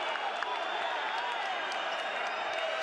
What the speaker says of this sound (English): the crowd incensed here in Zaragoza